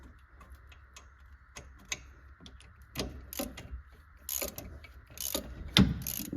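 Ratchet turning a shallow 6-point socket on a wheel bearing of a 2011 Chevy Silverado, close rapid clicking strokes in irregular bursts, growing louder toward the end.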